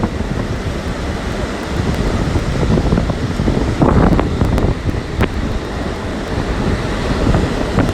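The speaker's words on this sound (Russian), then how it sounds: "сами волны очень сильно бьют" Storm waves pounding a pebble beach in Sochi, a continuous loud roar of surf with heavier surges, mixed with strong wind buffeting the microphone.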